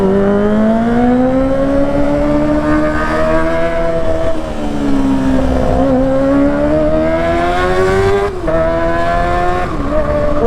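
A Kawasaki ZX-25RR motorcycle with an underbelly exhaust revs loud and close, its high-pitched four-cylinder wail rising and falling through several sustained pulls with brief dips between them.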